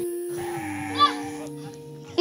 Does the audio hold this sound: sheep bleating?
yes